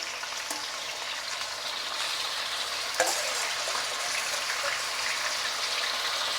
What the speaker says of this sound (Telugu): నూనె కాగింది కదండి. చికెన్ వేసాం కదా